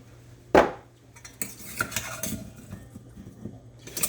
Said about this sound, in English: So then I give it a good stir.